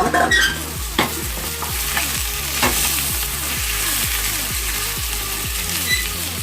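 Rice being stirred and toasted in a hot pan for a rice-and-beans dish, with a steady sizzle and a regular rhythm of utensil scrapes repeating about every half second, close and fairly loud with no voices.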